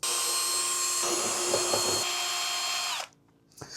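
A cordless drill set to its lowest clutch setting whirs at a steady high pitch for about three seconds while removing a guitar amplifier's bottom panel, briefly changing tone, then stops abruptly; a faint clatter follows.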